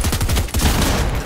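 Video game gunfire crackles in a rapid, dense burst, loud and close for about a second.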